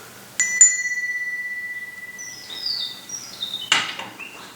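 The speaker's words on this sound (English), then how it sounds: "these bells could create a feeling of just kind of a sort of a tension" Bells struck in a music therapy and psychodrama session: two bright strikes ring out with long sustained tones, followed by a run of lighter tinkling chimes and a final loud strike, heard alone in a quiet room.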